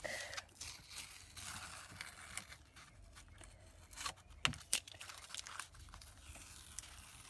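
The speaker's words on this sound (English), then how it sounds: "I'm going to peel off the border that I taped it down" Tape is peeled off the border of a mixed media artwork, giving quiet, intermittent tearing and crinkling sounds with a few sharper rips, close and faint, without talk.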